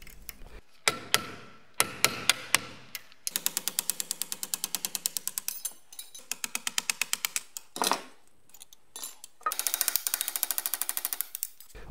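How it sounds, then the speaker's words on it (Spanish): Screwdriver prying steel laminations one by one out of a transformer core being taken apart for its copper wire: rapid metallic rattling bursts with sharp clicks, close and loud, separated by brief pauses. "Una forma de sacarlas es apalancando con un destornillador una por una"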